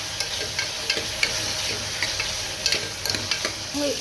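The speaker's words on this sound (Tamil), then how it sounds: "தக்காளி சேர்த்து நல்லா வதக்கிக்கலாம்." Tomatoes sautéing in a pan for moong dal sambar, giving a steady close sizzle and frying hiss broken by light scraping stirs and occasional soft taps.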